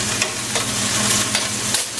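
Red wine sauce for venison bubbles and sizzles steadily in a pan as it reduces, close and fairly loud, with faint stirring taps and no talking.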